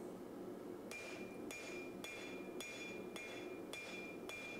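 A hammer strikes a canister Damascus billet of 1080 steel and nickel powder, forging a knife blade's distal taper. About seven sharp, evenly spaced ringing blows sound close and clear over a low background hum.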